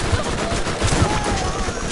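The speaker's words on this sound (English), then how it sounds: "this freaking shotgun" Shotgun blasts in the Borderlands video game, a dense run of sharp, loud reports in quick succession, with faint voices talking underneath.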